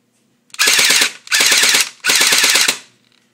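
An airsoft H&K MP7 fires on full auto in three quick, sharp bursts of rapid clicking shots, each lasting about half a second, close and crisp with silence between.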